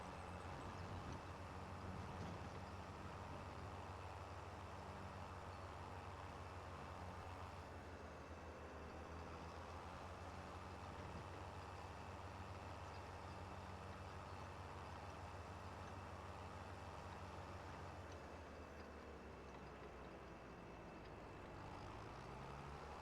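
A tractor engine in Farming Simulator 25 drones steadily throughout, a low continuous rumble with faint shifts in pitch, fairly quiet and with no talk.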